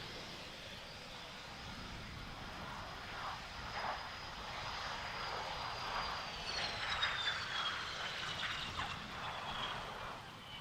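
A Fiat G91R jet in Frecce Tricolori colours makes a flypast at the Italian Air Force centenary airshow at Pratica di Mare, a faint, distant rushing roar that swells gradually and then eases off.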